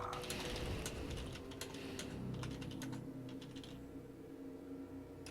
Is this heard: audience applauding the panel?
no